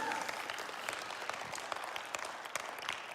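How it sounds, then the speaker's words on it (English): Sustained applause from a church audience during a sermon on marriage, a dense steady patter of many hands at moderate distance with no talk over it. "we can clap. Let's just do it."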